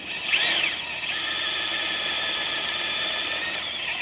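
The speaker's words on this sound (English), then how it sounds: "as I start to drill here" A sharp drill bit boring a hole during a HydrosPlus hydraulic performance kit install on a 2025 R, a steady high-pitched grinding whine that holds evenly for several seconds, close and alone.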